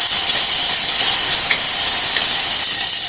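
Ginger garlic paste sizzles in hot oil for Madurai-style mutton kari dosai, a loud, dense, steady hiss close up with no pauses and no voices.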